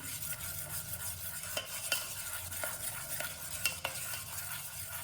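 Salt, chilli powder, turmeric and coriander-cumin powder are stirred into gram flour in a bowl for kadhi, a soft steady scraping with occasional light clicks of the spoon against the bowl, quiet and close.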